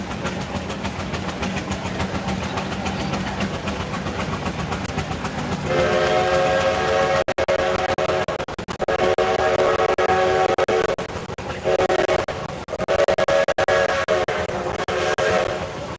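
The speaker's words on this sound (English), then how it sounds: "Shay, chugging around the corner." A Shay geared steam locomotive at a threshers reunion steam show, rumbling and chugging steadily, then a loud sustained whistle with short breaks over the running noise, fairly close and outdoors.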